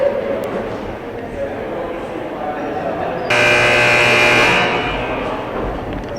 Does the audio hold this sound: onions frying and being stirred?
no